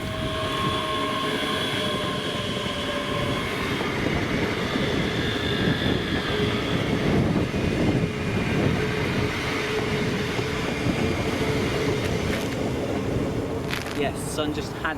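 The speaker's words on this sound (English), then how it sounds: "the 1456 ScotRail service to Millerhill EMU yard from Edinburgh" A ScotRail electric multiple unit passes at Millerhill near Edinburgh, heading for the EMU yard, with a steady loud rumble of wheels and motor hum that holds for the whole stretch and a brief high squeal near the end.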